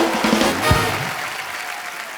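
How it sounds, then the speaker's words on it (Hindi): Studio audience on a TV comedy talk show applauding to welcome a guest, a loud broad wash of clapping and cheering with a brief voice near the start, sustained and even to the end. "जोरदार तालियों से अनुष्का का स्वागत।"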